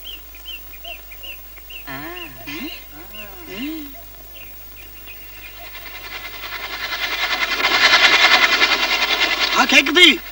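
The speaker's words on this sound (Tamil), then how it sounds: "வேற ரயில் வர சத்தம் கேக்குது" A train approaches on railway tracks, a rumble and clatter that builds steadily from faint to loud. Bird-like whistles and chirps and brief human vocal sounds come over it.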